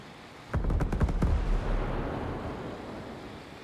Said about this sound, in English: Enemies attacking with mortars.